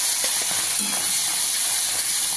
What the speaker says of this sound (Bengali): হয়ে গেছে আমার তেল গরম, আমি দিয়ে দিলাম চিংড়ি মাছটা তেলে।